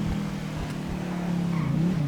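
A Mercedes car engine revs close by with a steady low droning tone that climbs slightly toward the end, alongside faint tire noise, with no voices over it.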